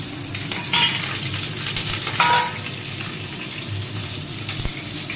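Cumin seeds and green chillies fry in hot oil in a pan for jeera aloo, a steady close sizzle with brief louder crackling spurts and some faint stirring or water noise.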